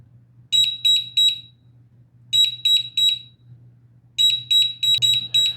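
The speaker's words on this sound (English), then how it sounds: "So I'm going to put the wrong fingerprint in here 5 times. The alarm's going to start going off." A biometric gun safe's loud, shrill electronic alarm, set off by repeated wrong fingerprints, sounds in three bursts of rapid beeps, each group of three to four sharp pulses separated by short pauses.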